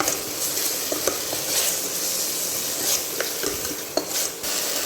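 Ginger garlic paste stirred and frying in a pan for an Indian egg gravy: a steady close sizzle with scraping spoon strokes and a few light clinks against the metal, no talking.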